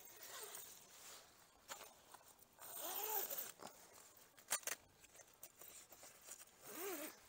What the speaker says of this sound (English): get the zip, pull it all the way around